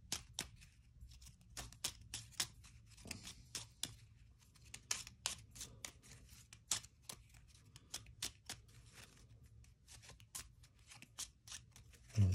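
Artefact cards from a horror board game are shuffled by hand, giving a long run of soft, close riffling clicks and flicks in quick, uneven bursts.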